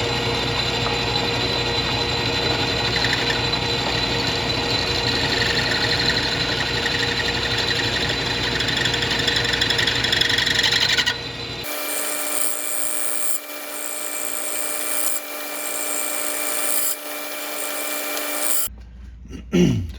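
Lathe cutting tool working a throwout bearing shaft, a steady dense scraping hum for about eleven seconds, then quieter intermittent cutting passes with brief pauses, ending in a short clatter.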